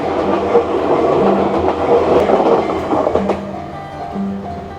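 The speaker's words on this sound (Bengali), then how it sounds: "র্যাপিড ট্রেন তার জন্য এত স্পিডে গেল" A rapid train in Japan rushes past at speed, loud and close, with a heavy rumbling roar and rhythmic wheel clatter that eases slightly toward the end.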